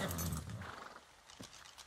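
Horse in the video game ARK: Survival Evolved, a short burst of snorting and whinnying vocal noise at the start, then quieter thuds and a brief low knock, fairly close.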